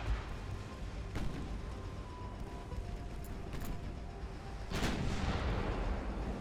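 Naval guns firing at a ship in the video game Ultimate Admiral Dreadnoughts, heavy booming shots over a constant low rumble, with a couple of sharp blasts standing out amid the ongoing battle noise.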